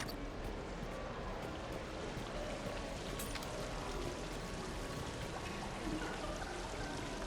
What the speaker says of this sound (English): Please do not touch the waterfall.